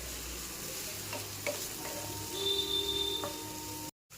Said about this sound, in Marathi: आता तो परतून घ्यायचा आहे लालसर होईपर्यंत